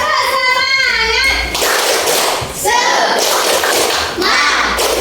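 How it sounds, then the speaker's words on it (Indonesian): Children in an Indonesian classroom lesson chant together while clapping in rhythm, with loud close voices and sharp claps and thumps spaced through the chant. "Sebelum kita lanjut, kita tepuk semangat dulu ya teman-teman"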